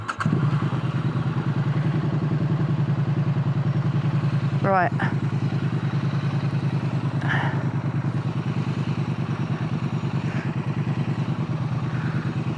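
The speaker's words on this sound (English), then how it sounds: "So I can still hear the beautiful sound of the bike" Motorcycle riding heard through a helmet, a steady low engine drone with wind rumble throughout, a brief clattering burst midway, and someone speaking briefly over it.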